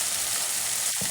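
Oil sizzles and hisses steadily in a pan while a shrimp and pumpkin curry cooks, with a brief clatter of stirring near the end and no voices.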